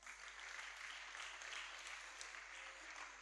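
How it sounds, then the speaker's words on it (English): Faint, steady clapping from the audience at a kindergarten graduation exercise, honoring pupils after their drumming month, heard distantly beneath a low hum with no talk. "So clap them."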